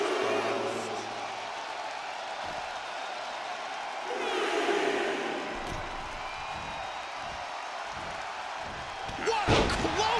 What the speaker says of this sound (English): What a clothesline!